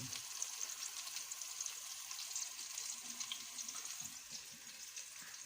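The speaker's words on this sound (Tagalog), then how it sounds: "Habang ito po'y ginigisa natin" Liver sautéing in a pan with aromatics for a home-cooked Filipino dish gives a steady, fairly quiet sizzle with faint crackles and soft stirring scrapes, continuous and without talk.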